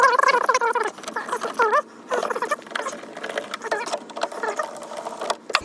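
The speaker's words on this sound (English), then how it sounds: "We're gonna remove this screw, the two bottom screws, and take the whole piece out as one piece." Screws being backed out of an interior panel in a 1967 Camaro convertible, likely with a power driver, giving rapid high whirring bursts with short pauses between them, fairly close.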